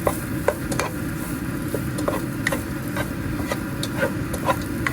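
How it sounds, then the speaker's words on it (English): Crushed pepper being stirred into a pan, with steady utensil scrapes and clinks repeating over a continuous low sizzle, close and moderately loud, no talking. "Here I just added the crushed pepper, so I'm going to stir it up."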